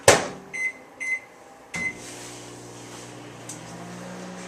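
Microwave oven heating soap base: a few short door or button clunks, then a steady low hum of the oven running, close and with no voices.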